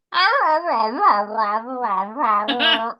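A female dog whines and moans for her overdue dinner, a continuous high, wavering whimper with rising and falling pitch lasting about three seconds, close and fairly loud.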